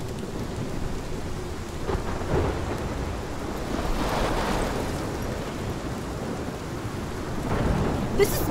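A thunderstorm in the video game Life is Strange: heavy rain hisses steadily while low rumbles of thunder roll through, swelling and fading in long waves, with no speech.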